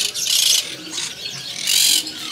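An African grey parrot at a kiosk in Jakarta's Pramuka bird market gives two loud, harsh, high-pitched screeching calls close by, separated by a short lull of quieter background noise.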